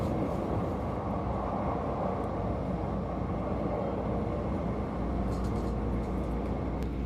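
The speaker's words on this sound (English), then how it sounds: "After hopping on the Sky Access line, the train finally started speeding up" Steady, loud rumble and rushing noise from inside a Keisei Skyliner train accelerating on the Sky Access line in Japan, continuous wheel and motor drone with no pauses.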